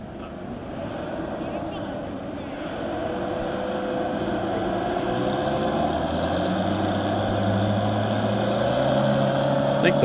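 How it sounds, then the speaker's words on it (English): Push truck engine droning loudly as it shoves a diesel-powered Vesco-bodied streamliner across the El Mirage dry lake at an SCTA race, a steady low roar that builds slightly and rises in pitch toward the end. "I think the push truck engine's louder than the diesel and the streamliner."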